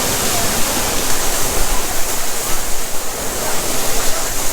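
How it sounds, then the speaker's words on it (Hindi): Water gushing from the mouth of the Merlion statue at Merlion Park, Singapore, a loud, dense, continuous splashing roar like a waterfall, close and steady with no talking. "ये शेर के मुँह से पानी निकल रहा है।"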